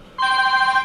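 A telephone rings with a single clear electronic bell tone, close and fairly loud, starting abruptly and sustaining steadily for under a second with no talk over it.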